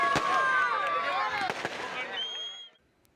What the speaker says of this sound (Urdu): آتش بازی کا شاندار مظاہرہ کیا گیا